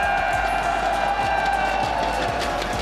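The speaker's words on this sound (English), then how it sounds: "The crowd is phenomenal so far here, day 3" Crowd at a live Clash of Clans esports world championship finals, DreamHack Atlanta, day three, giving off a steady, dense cheer and murmur with scattered claps, loud and continuous throughout.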